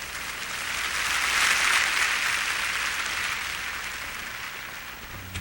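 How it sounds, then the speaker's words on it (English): Studio audience applause on a talk show, a sustained wash of clapping that swells in the first couple of seconds and then slowly fades, with no talk over it. "just clap for Star for a minute"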